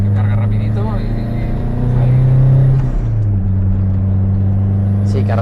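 Renault 5 GT Turbo small turbocharged engine revving, a loud steady drone that climbs in pitch then drops back, with people talking over it.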